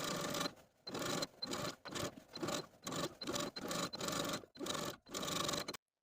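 Sewing machine running in repeated short bursts along the side seam of denim-style overalls from McCall's 7547, a steady whirring stitch broken by brief pauses, close and clear with no voices.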